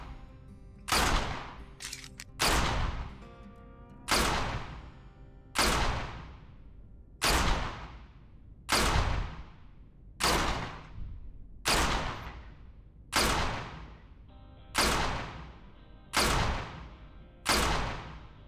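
Repeated gunshots from a firearm at a shooting range, about a dozen sharp reports fired at a steady pace roughly every one and a half seconds, each loud with a decaying echo.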